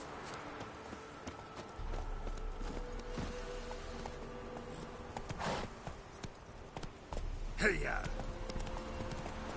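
Horse hooves clip-clopping in the Witcher 3 video game, a steady rhythmic trot of game sound effects under background ambience, with a brief spoken word and a short whoosh partway through.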